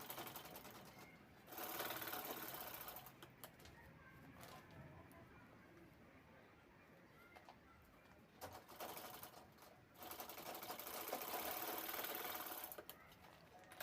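Sewing machine stitching a bag sewn from an old gown, running in several loud, steady whirring bursts of rapid needle strokes, close up, separated by quieter pauses with faint handling noise.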